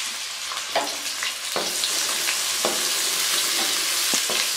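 Finely chopped large onion sizzling steadily in hot oil, a dense close frying hiss with scattered spoon scrapes and clacks against the pan, no voices.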